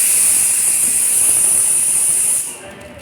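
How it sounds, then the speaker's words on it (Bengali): A pressure cooker cooking pea dal lets out a loud, close, sustained steam whistle that hisses steadily for over two seconds, then cuts off abruptly, leaving a quieter room. "তো আমার প্রেশারে তো সিটি পড়ছে, ডালটা আরও গলুক।"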